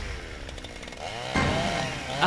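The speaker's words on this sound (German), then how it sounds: "Sie hat eine Kettensäge." A chainsaw in the video game Puzzle Agent snarls close and loud, its engine revving up sharply partway through.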